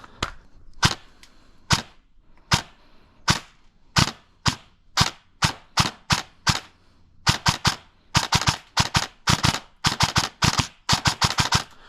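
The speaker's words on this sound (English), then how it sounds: "Sometimes it's even shooting so fast that it's double cycling 2 BBs at once because it's such a fast build." A high-performance airsoft gun with a fast build fires BBs outdoors, starting with spaced single sharp cracks and speeding into rapid bursts of loud, close snaps, with no talking.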